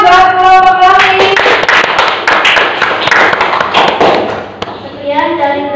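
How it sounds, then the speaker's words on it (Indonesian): Students in a classroom applaud a presenting group, a burst of close, sharp, uneven hand claps lasting a few seconds, with voices talking at the start and again as the clapping fades out. "tepuk tangan buat kelompok kami"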